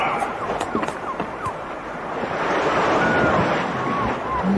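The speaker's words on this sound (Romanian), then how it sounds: "Da, Gulliver, poți auzi valurile mării și le poți vedea" Sea waves as a radio drama sound effect, a soft continuous surf wash that swells toward the end, with faint scattered squeaks and clicks over it and no clear voices.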